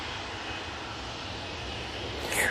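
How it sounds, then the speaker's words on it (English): A Ryanair Boeing 737-800 jet departs from Manchester Airport for Alicante, its engines giving a steady, moderately loud roar that swells slightly at the very end, with no talking. "Ryanair, right in front of us. This will be off to Alicante using the 737-800 for this flight."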